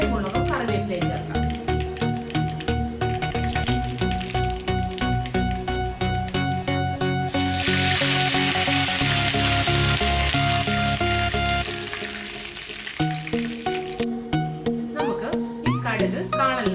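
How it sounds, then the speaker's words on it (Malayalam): Dried red chillies and curry leaves frying in hot oil for Kerala kalan, a loud burst of crackling sizzle in the middle over steady background music. "നമുക്ക് വറ്റൽമുളകും കറിവേപ്പിലയും ചേർക്കാം."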